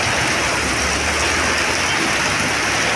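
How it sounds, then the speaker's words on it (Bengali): Heavy rain pours down with strong gusting wind in Arambagh during a flood, a loud, dense, unbroken hiss that fills the whole moment without pause. "প্রচণ্ড পরিমাণে বৃষ্টি হচ্ছে এবং সঙ্গে ঝোড়ো হাওয়া।"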